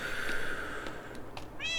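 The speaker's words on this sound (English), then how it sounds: "there's some cats in there" Cats meow in a Minecraft game world, a couple of short mewing calls near the end over a steady tonal background hum, moderately close and clear.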